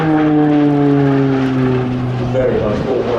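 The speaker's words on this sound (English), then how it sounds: "bringing the PC-9M in past us" A Pilatus PC-9M single-turboprop trainer flies past at an air show, a loud, close propeller drone with strong steady harmonics that bend downward as it passes.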